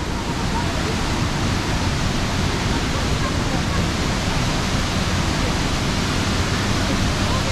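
A mountain waterfall in the Prokletije range plunging into a pit, a dense, constant roar close by that fills the whole sound with no breaks.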